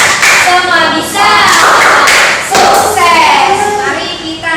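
Elementary school pupils in a Grade 6 classroom clap a rhythmic chant together, loud, close, bursts of unison hand claps mixed with children's chanting voices.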